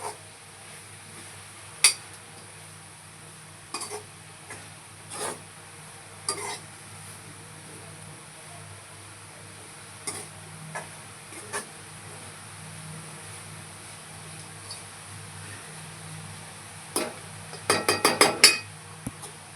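A utensil clinks and scrapes against a pan as grated coconut is stirred into a cluster bean vegetable dish. The clinks are scattered and fairly close, with a quick burst of rapid clinks near the end and a low background hum.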